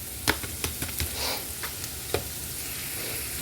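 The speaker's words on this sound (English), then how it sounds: "our sausage is starting to get golden brown. While that continues to cook, we're going to go ahead and add our peppers and onions" Sausage frying in a pan as peppers and onions are added gives a continuous sizzle broken by several sharp clacks and stirring scrapes.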